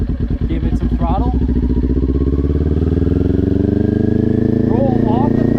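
A motorcycle engine pulls up under rising throttle as a beginner rides, a loud steady drone climbing in pitch with an instructor talking over it.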